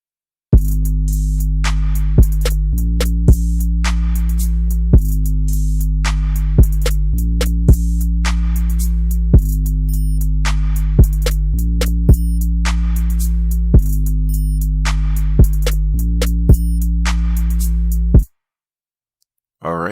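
Hard piano trap beat drums looping together, with booming 808 bass hits, crisp hi-hat rolls and sharp claps in a steady pattern, loud and continuous before cutting off near the end; no talking.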